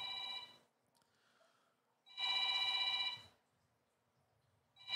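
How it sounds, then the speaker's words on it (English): A telephone rings indoors in two clear bursts about two seconds apart, with a third just starting, each a bright electronic trill at moderate distance with quiet gaps between. "My phone ringing. Y'all hear that phone ringing?"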